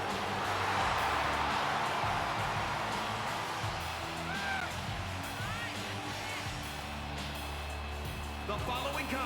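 Wrestling arena crowd roaring and cheering for their champion, a dense, loud, continuous wall of whoops and yells with no pause.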